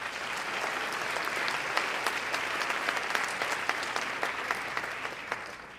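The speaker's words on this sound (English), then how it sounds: "Let's give them a huge round of applause." A large audience claps at the opening of the 2012 Vancouver International Film Festival, a sustained, even round of applause with sharp individual claps popping out, fading slightly toward the end, no voices over it.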